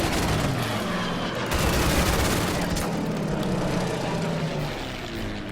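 Battle sounds from the strategy game Order of Battle in a Tobruk desert sandstorm scenario: dense, continuous gunfire and machine-gun bursts with fighter aircraft engines roaring loudly underneath, steady throughout.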